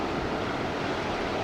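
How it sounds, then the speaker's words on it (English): Pacific Ocean surf at Usal Beach, a constant broad roar of waves mixed with wind buffeting the microphone, steady and loud throughout with no voices. "That's the Pacific Ocean out there."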